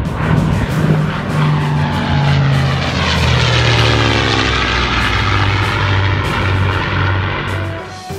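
Twin propeller engines of a North American XP-82 Twin Mustang droning loudly and steadily, with a wavering tone as the fighter flies past, no talk.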